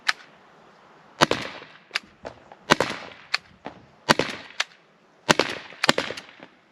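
Sharp, loud gunshot-like cracks from an Umarex T4E .68 calibre home defense gun firing RBI rounds, about eight to ten reports in irregular bursts, some close together, with short decays between and no talk.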